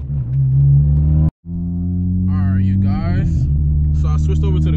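A car nicknamed Dusty drives toward a gas station, its engine holding a loud, steady hum. The engine sound cuts out briefly, then resumes with a shifting tone, and a voice comes through in places.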